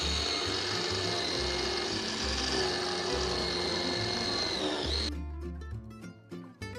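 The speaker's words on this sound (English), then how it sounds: "And we will grate a lemon." A lemon is grated for a Swiss carrot cake, giving steady rhythmic rasping strokes up close for about five seconds before music takes over.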